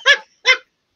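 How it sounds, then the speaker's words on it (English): A pet dog gives two short, sharp yips or barks in quick succession, close and loud, followed by silence. "this is my sweet doggy"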